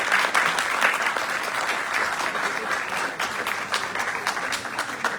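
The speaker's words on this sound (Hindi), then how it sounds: "Please give a round of applause." A stage play audience applauds at length, dense sustained clapping from many people that keeps an even level throughout, with no speech above it.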